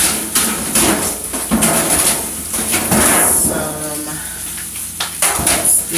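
Cooking pans are handled and set down in a kitchen while preparing a large home-cooked meal, giving close sharp metallic clanks and knocks at irregular moments, with some talking mixed in.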